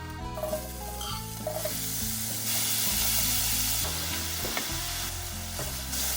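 Zucchini fries in olive oil in a pan, a loud, continuous sizzle and hiss with stirring scrapes and clinks woven through, and no talking.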